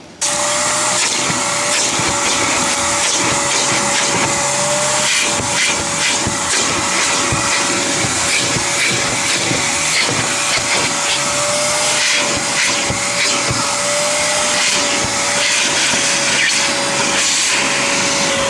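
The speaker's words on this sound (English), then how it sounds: "I'm going to vacuum out the carpets now and the seats." A loud vacuum cleaner roars continuously with a steady whine, its tone shifting slightly as the nozzle moves over car carpet.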